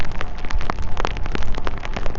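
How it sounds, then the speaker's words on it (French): Rain patters steadily on a surface nearby at an outdoor megalithic gallery grave, Pors Poulhan, Brittany, dense scattered drops with no voices. "Mais la pluie, ça c'est pas trop grave ça encore."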